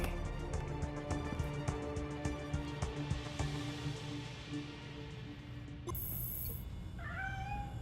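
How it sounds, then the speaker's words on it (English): A cat meows in a Gotham Knights cutscene, a short rising-and-falling cry near the end, heard over a dense background of music and effects. "You're telling me a cat managed to break through a world-class security system?"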